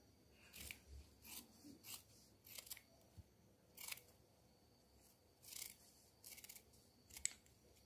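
Scissors snip through the ends of a satin ribbon bow in a quiet room, a series of about a dozen crisp cutting sounds in uneven bursts, close and moderately loud with no talking.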